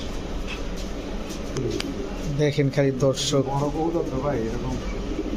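Young Lahori stencil pigeons coo in several soft, rhythmic throaty bursts close by, mixed with someone talking over them.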